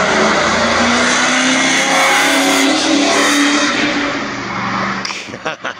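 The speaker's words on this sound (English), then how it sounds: "Do a burnout for us." A car doing a burnout, its engine revving hard and loud with a sustained roar and tire squeal close by, then easing off as the sound trails into a few sharp bursts.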